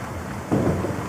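A thunderstorm: a deep roll of thunder swells over a steady hiss of rain, loud and close, with no voices.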